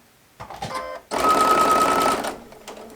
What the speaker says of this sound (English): what I like about my sewing machine is that it automatically lifts the needle for me